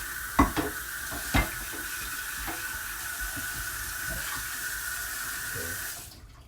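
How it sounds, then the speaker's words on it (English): A worn non-stick pan is scrubbed hard with a Brillo soap pad, making a continuous rough, scratchy scouring over running water, with a couple of sharp knocks early on before it stops abruptly. "I learned how to use the Brillo pad on this fucker."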